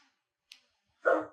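A single short dog bark sounds close by, preceded by a faint brief click, then silence.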